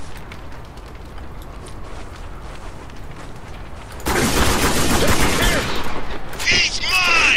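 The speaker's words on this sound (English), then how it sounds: "Give me some cover fire!" Gunfire in the shooter game Spec Ops: The Line: quiet, rustling ambience gives way abruptly to a loud, sustained fusillade of rapid shots that keeps going to the end.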